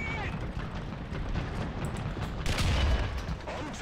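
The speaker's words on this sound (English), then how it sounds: "On target. Another explosion." A tank battle in War Thunder rumbles with dense gunfire and explosions, a continuous loud barrage with a heavier blast near the end, and no voices.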